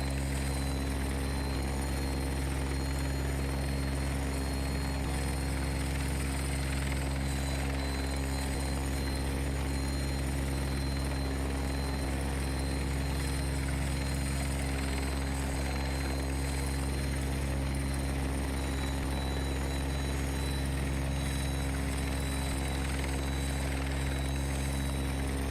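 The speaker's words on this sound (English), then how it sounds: "As much as I like this helicopter" A Bell 412 helicopter in the X-Plane 11 flight simulator drones continuously with a steady, loud rotor and turbine hum that holds unchanged throughout, with no talk over it.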